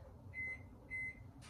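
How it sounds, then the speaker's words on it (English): A kitchen microwave oven runs with a faint low hum, punctuated by two short electronic beeps and a brief click at the end, quiet and close with no talking. "So I'm gonna throw this in the microwave."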